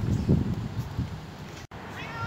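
A cat gives a few plaintive meows close by, mixed with some speech and rustling.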